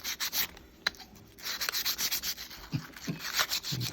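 Sandpaper rubbing rust off a Polaris lower A-arm part, close and steady, a rapid rhythmic back-and-forth scraping that comes in repeated short strokes with brief pauses.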